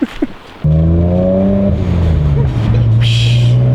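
A BMW E36 fitted with a new blow-off valve pulls away in first gear, a loud close engine drone climbing steadily in pitch from inside the cabin, with a brief hiss near the end and voices at the start.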